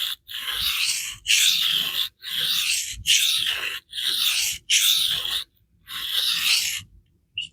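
A Spyderco knife with an S30V steel blade is drawn across a vitrified diamond sharpening stone in seven even, rasping strokes with short pauses between them, close and fairly quiet.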